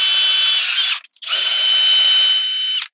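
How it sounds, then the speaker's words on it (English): A power drill bores down through a board and into aluminum during hillside stair assembly, running as two loud, steady whining passes separated by a short pause. "you're going to drill down through the board and through the aluminum"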